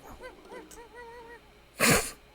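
Small creatures in the video game Botanicula squeak and chirp, then give one sharp, loud sneeze near the end of the short stretch, with no talk.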